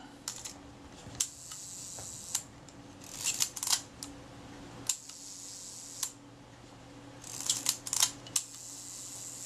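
Sharp mechanical shutter clicks from a repaired Kodak Retina IIIC camera fire close by, singly and in quick bursts, separated by short pauses against a quiet room.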